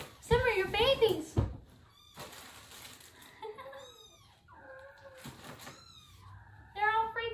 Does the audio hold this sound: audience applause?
no